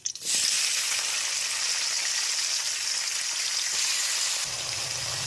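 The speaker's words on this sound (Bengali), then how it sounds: "এবার এই তেলের মধ্যেই দেব দুটো পেঁয়াজ কুচি" Something drops into hot oil with a clatter, then a continuous crackling sizzle of frying onions that settles to a softer hiss near the end.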